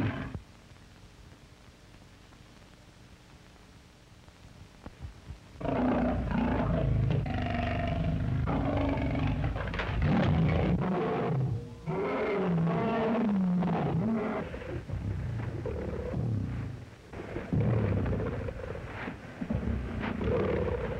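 A lion roars in a jungle adventure feature film. After about five quiet seconds, a long run of loud, rumbling roars and growls follows, rising and falling in waves with brief pauses and no speech.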